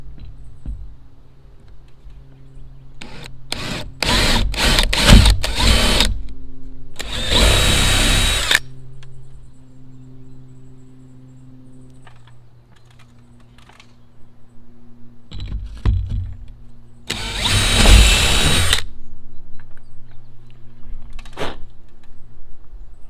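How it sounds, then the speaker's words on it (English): Power drill boring holes through a fiberglass camper shell on a Toyota Tacoma, heard in two loud sustained bursts of whining, grinding drilling, separated by quieter pauses with a few short clicks and tool handling. "It's always a special moment the first time you drill a hole in a toy."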